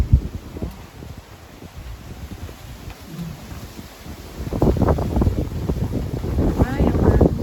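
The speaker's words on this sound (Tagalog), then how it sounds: "Ayan na yung hangin, no?" Strong gusty wind in San Francisco buffets the microphone with a continuous roaring rush that swells noticeably louder in the second half, with no talk.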